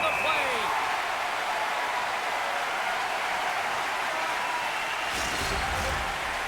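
An arena crowd during an NHL 26 hockey video game match, a broad steady roar of cheering and applause filling the background, with a short burst of louder impact-like noise near the end.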